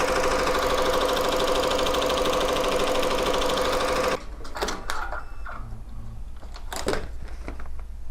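An embroidery machine stitches with a loud, steady mechanical whir for about four seconds, then stops abruptly, leaving quieter clicks and handling noises.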